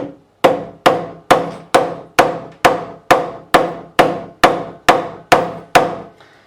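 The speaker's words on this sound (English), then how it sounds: "a few taps, and that fret is seated exactly where I need it to be" A hammer taps a guitar fret into place on a Vintage V100 Les Paul-style guitar twelve times at a steady, even rhythm, each short, sharp strike ringing briefly before the next, close and moderately loud with nothing else in the background.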